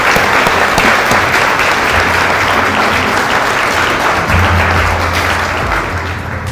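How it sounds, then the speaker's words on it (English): A large audience at a US Army brigadier general's promotion ceremony gives loud, steady applause after the national anthem. The clapping holds evenly and eases off slightly at the end, with a low hum entering midway. "Can we please give them all another round of applause?"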